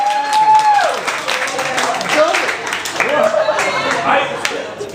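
Comedy show audience gives a round of applause, with scattered clapping mixed with loud whoops and cheering from the crowd. Voices shout over the claps throughout.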